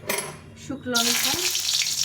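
Dry red chili, two bay leaves and five-spice (panch phoron) hit hot oil for a lentil dal tempering, bursting into a loud, steady sizzle after a quieter start, with a brief clink partway through.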